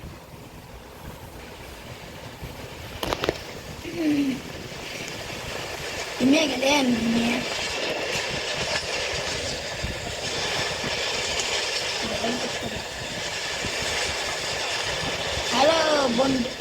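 A steam train runs in the video game Runway Train, a steady rumbling rail drone that continues throughout while a person talks over it.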